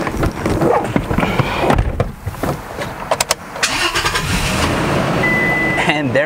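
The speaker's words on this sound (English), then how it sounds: "The car has turned over. The battery starter has worked." A Toyota Tacoma with a completely dead battery cranks on a portable jump starter and fires up, the engine catching loudly and then settling into a steady idle while someone talks over it.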